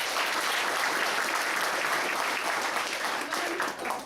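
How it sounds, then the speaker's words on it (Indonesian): A seminar audience applauding themselves, dense continuous clapping from many people that fills the room loudly and evenly, easing slightly toward the end. "kasih tepuk tangan untuk Anda sendiri"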